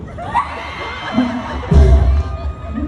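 A short burst of audience cheering at a likay stage show by the Rung Fa Kritsada Barami troupe: scattered shouts at first, then a loud surge of whoops and yells that fades back down.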